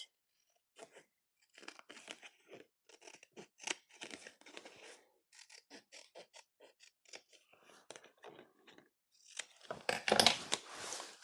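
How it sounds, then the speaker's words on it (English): Scissors snip and crunch through a paper craft piece in a series of short cuts, ending in a louder, denser run of cutting, with quiet talk heard near the start. "So let's cut it out."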